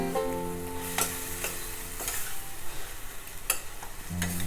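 Green chillies sauté in a pan, a continuous close sizzle broken by several sharp scrapes and taps of the spatula stirring the mixture, with no talking.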